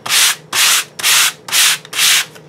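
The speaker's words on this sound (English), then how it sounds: "I'm not going to sand off any of the printing" Sandpaper rubs across printed waxed paper in five even, rhythmic strokes, each a bright, close scratchy hiss separated by brief pauses.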